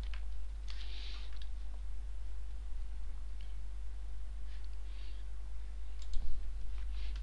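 Keys clicking on a computer keyboard while a range 10 loop is entered in Python, with short bursts of taps and a pause before a final cluster, light and close over a steady low hum.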